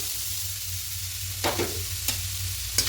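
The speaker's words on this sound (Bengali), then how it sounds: "দিয়ে ঘিয়ের সঙ্গে খুব ভালো করে মিশিয়ে নেব" Grated carrot sizzles in hot ghee in a pan and is stirred, with a steady close frying hiss broken by a few sharp scraping stir strokes and no voices.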